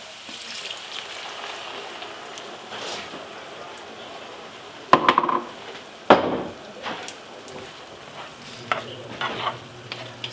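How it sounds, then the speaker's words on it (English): Cottage pie mince simmering over low heat after a cup of red wine goes in, a steady soft sizzle with two sharp stirring knocks and scattered spoon scrapes against the pan. "Now I'm going to add 1 cup of red wine and reduce it."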